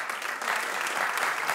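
Studio audience applause on a celebrity talk show, steady and fairly loud across the whole moment, a dense wash of clapping with no break.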